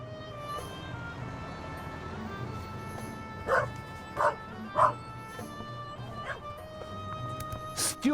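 Dog yipping and whimpering in a radio drama: several short, sharp yips spaced a second or so apart over a steady low background hum, moderately faint.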